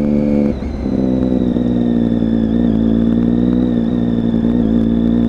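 A Triumph Daytona 675 triple-cylinder motorcycle, black and gold, idles and revs steadily up close with a loud, continuous engine drone and a high whine riding on top, no voices.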